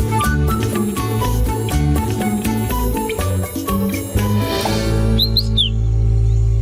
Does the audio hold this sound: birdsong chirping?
yes